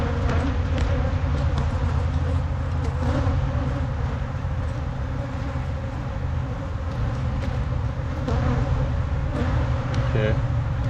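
Honeybees hum in a steady, dense drone around an opened hive frame while a colony is being built up for almond pollination, loud and continuous throughout with faint handling sounds.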